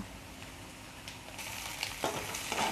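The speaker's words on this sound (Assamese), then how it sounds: "এতিয়া ডিমখিনি অলপ ৰঙা হোৱালৈকে ভাজি থাকিম" Steady sizzle of egg frying in a pan, a continuous crackling hiss with a few louder spits and pops toward the end.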